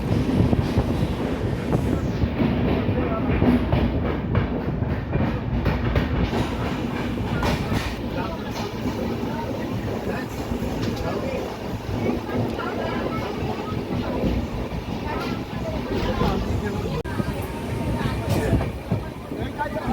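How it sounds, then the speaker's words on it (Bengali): Inside the 22201 Duronto Express from Sealdah to Puri, the carriage runs steadily on the tracks near Kolaghat with constant rumbling, rhythmic clickety-clack and wind rushing past the microphone. "এই মুহূর্তে আমাদের ট্রেন ক্রস করছে কোলাঘাট।"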